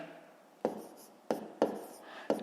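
A pen writing numbers by hand while working a fifth-grade math division problem: four distinct, close taps and scratches spaced unevenly over a couple of seconds, quiet and alone.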